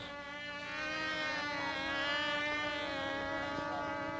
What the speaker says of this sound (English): It's powered by 2 K and B-25 engines turning Crest fans.